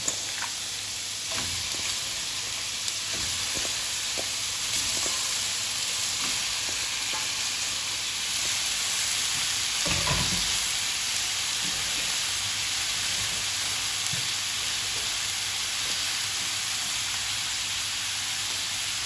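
Chicken sizzles steadily in a hot pan for kinamatisang manok, a dense crackling fry punctuated by stirring scrapes and occasional louder bursts, with no talking.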